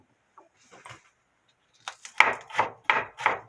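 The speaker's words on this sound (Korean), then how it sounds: "가늘게 썰어주는 게 좋아요" A knife slicing food thinly on a cutting board, a few faint scrapes followed by a quick series of five or six crisp close knocks, no talking.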